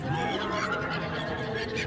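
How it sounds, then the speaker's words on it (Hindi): Siberian migratory birds gather at the Sangam in Prayagraj during the Maha Kumbh 2025, filling the air with a dense, continuous chorus of overlapping honking, squawking calls close by. "ये साइबेरियन चिड़िया।"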